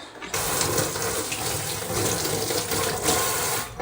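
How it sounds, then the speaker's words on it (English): Tap water pours steadily from a faucet over a cut aloe leaf, a continuous close splashing rush that starts suddenly and holds at an even level with no voices. "Then I go and I run this under the faucet."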